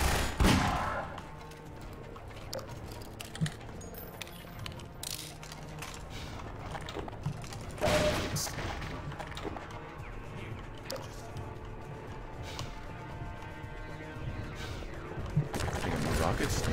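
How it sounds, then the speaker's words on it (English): Gunfire from the Half-Life 2 finale, with scattered shots and bursts under a dense mix of mechanical clanks, game music and effects, punctuated by a few louder blasts, while a player talks intermittently. "there's still more gunfire."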